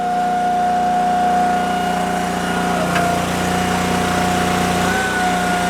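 A log splitter's small engine, an Eastonmade Axis vertical splitter, drones steadily at full RPM, close and loud, holding a constant pitch throughout with a faint rattle.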